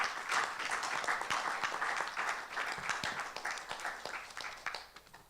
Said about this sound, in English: with a warm round of applause, let's welcome Lukhona